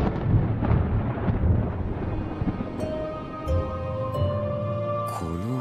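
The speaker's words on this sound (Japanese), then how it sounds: "雷か？ まだ遠いな。" Distant thunder in the video game Sword Art Online Alicization Lycoris rolls as a low, rumbling swell over the first couple of seconds, then fades under a sustained tonal game soundtrack.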